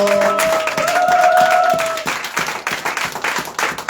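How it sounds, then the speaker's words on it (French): An audience at a church leaders' workshop bursts into applause and cheering, with scattered clapping fading to sparse claps as a sustained tone drops away. "Si tu as été béni, acclame très fort"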